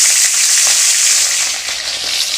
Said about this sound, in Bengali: মাছটা ছেড়ে দিলাম ভাজা